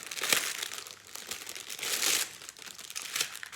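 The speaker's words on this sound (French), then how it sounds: "on va ouvrir les diamants ensemble parce que ça m'intrigue" Plastic packets of diamond painting rhinestones are torn open and crinkled close by, a quiet run of crackling, rustling bursts with short pauses between them.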